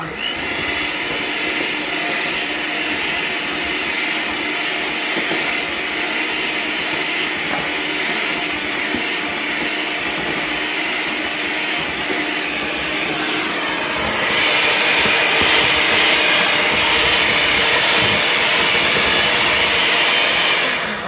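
An electric mixer whirs steadily while creaming soft butter for a German chocolate cake, a continuous loud motor drone that grows slightly louder and harsher toward the end.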